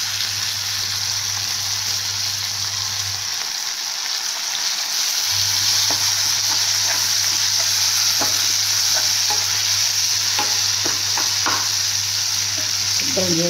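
Tomatoes and curry leaves frying in oil in a pan, a loud, bright, constant sizzle with a low steady hum, and repeated clicking stirs that grow busier in the second half.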